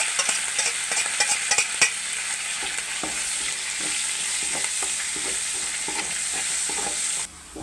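Ginger, garlic and chili paste with curry leaves fry in a pan for a chicken biryani masala, giving a steady close sizzle broken by repeated scraping stirs, with a brief drop near the end.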